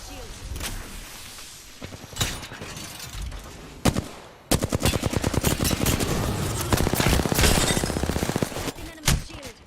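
Rapid automatic gunfire in the shooter Apex Legends, several loud bursts and a long sustained volley of closely spaced shots, interspersed with single sharp cracks and near explosions.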